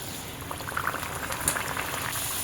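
A peas puri fries in hot oil, bubbling in a dense steady crackle close by, with small spikes of spattering and no voices.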